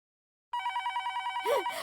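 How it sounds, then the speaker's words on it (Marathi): After half a second of silence, a telephone bell starts ringing in a rapid, even trill. It rings clearly and close, and a short voice-like sound cuts in near the end. "हा नक्की टप्पूच्या पप्पांचाच फोन आहे."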